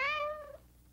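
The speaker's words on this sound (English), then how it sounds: "a cat says meow" A single clear cat meow, a falling tonal cry close up and lasting about half a second, then quiet.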